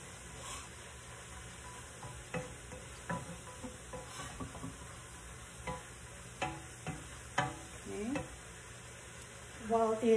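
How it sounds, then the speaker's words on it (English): Chopped onion sautéing in a pan for Mexican picadillo, a soft low sizzle with intermittent scraping stirs, faint and close. "Let the onion saute a little bit, maybe about half a minute."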